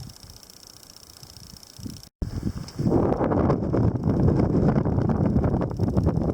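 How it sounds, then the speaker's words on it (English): Strong wind on a mountain pass in the Humboldt Range roars and buffets the microphone after a brief quiet start, building into a loud, continuous rushing gust. "The passes in west side here are very windy."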